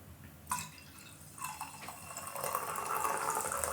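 A domestic beer poured into a glass, a steady liquid splash and fizz that builds louder over a few seconds, close up with no talking.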